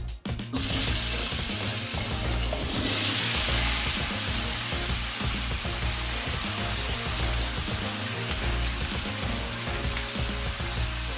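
Chopped onions and green onions hit a hot pot with a sudden loud sizzle that settles into a steady, dense frying hiss lasting throughout, with faint stirring scrapes underneath.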